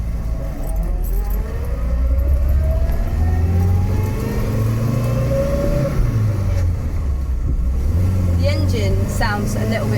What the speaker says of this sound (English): The transmission whine is a little bit more noticeable, obviously because of the gearbox, but the engine kind of revs is a little different